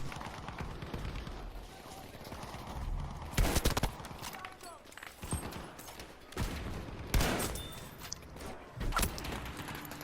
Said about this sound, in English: Oh, I killed somebody with the rifle bullet.